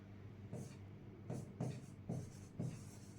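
Pen strokes scratch across paper in four short, soft bursts close to the microphone, with brief pauses between them during a math homework exercise.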